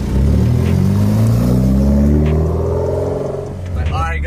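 A Mitsubishi Lancer Evolution X GSR drives off and accelerates, its engine note climbing steadily in a rising rev sweep, then easing before picking up again, heard from inside the car.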